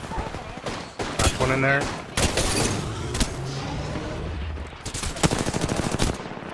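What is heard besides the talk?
gunfire in a video game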